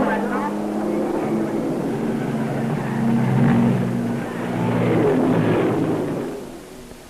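Engines of sports and race cars roar through the 1953 24 Hours of Le Mans, a sustained throaty drone that swells and fades over several seconds as cars pass, with a voice speaking over it.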